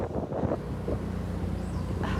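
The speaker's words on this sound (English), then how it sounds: "There is a wind corridor here." Wind rushes through a wind corridor in New York, a steady, loud roar that buffets the microphone with low rumble and gusty texture for the whole moment.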